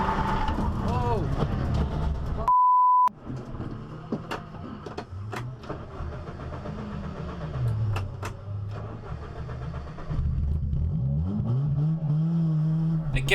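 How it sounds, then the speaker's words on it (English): A race car, just wrecked in a pileup, restarts and revs with rising and falling engine tones and a brief steady beep, moderately loud. "I get the car going again"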